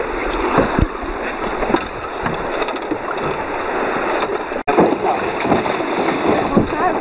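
A raft in a raft race churning through water, with paddle splashes, wind buffeting and sloshing close by while people shout and talk throughout.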